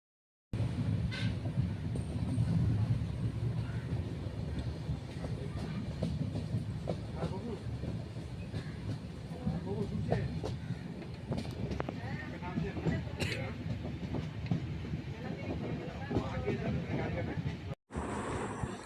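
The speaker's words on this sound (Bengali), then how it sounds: "ট্রেন চলছে দেখো খুব আস্তে আস্তে" A passenger train runs slowly on the rails, a steady low rumble with soft clattering throughout, moderately faint and continuous, with a short break near the end.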